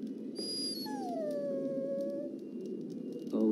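A dog in the Dragon Age: Origins video game lets out a soft, drawn-out whimpering howl that slides downward, faint over a steady low background hum, with a brief thump at the end.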